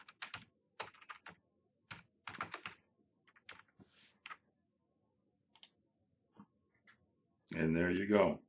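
Typing on a computer keyboard while entering a home address into route planning software, heard as several bursts of quick close clicks, followed by a short louder burst of voice at the end.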